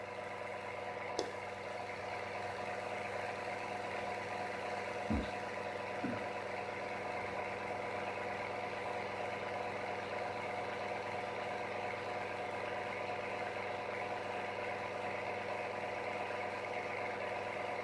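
A motor runs steadily at around 5,900 RPM through a long endurance test, a constant even hum with faint vibration and no change in pitch, with a few brief clicks and a low thump along the way.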